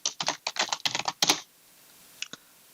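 Close, quick keystrokes on a computer keyboard entering an Excel formula, a rapid run of clicks for over a second, a pause, then two final taps.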